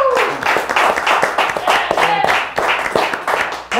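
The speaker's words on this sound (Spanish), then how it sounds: "Un aplauso para ellos" A studio audience breaks into brisk applause for guests on a Spanish-language talk show, with dense, rapid claps near and loud and voices mixed in beneath.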